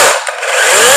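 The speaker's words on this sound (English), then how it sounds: "my number 1 tool, the chainsaw" A chainsaw for stump work runs loud and close in a continuous high, buzzing whine, its pitch dipping briefly as if under load before recovering.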